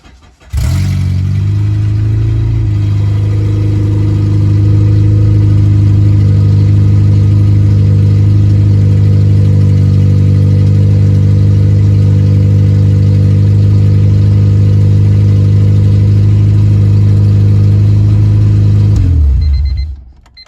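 A K24 engine swapped into a Honda cranks briefly, catches and settles into a loud, steady idle that runs close up for nearly twenty seconds before shutting off abruptly.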